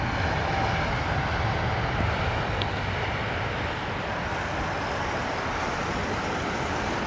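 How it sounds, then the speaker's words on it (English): Iberia Airbus A320neo landing at London Heathrow, a steady broadband engine and airflow roar holding at constant level throughout, with no voices. "Lovely arrival though from the A320neo, Iberia."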